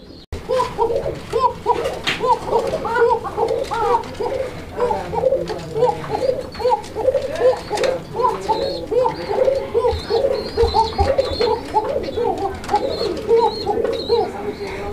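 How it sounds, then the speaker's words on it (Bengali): Original Basiraj pigeon cooing steadily, repeated rhythmic coos from several birds close by, continuous over a low background murmur at a pigeon seller's loft. "কত চমৎকারভাবে কোকাটা ডাকে, খুব সুন্দর ডাকের একটা অরিজিনাল বাসিরাজ কোকা"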